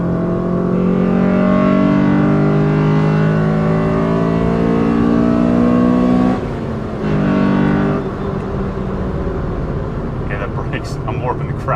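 An EM1 Honda Civic Si's VTEC engine revs loudly while driving with the windows down, a sustained high-pitched note that drops suddenly partway through before building again, with a voice speaking over it.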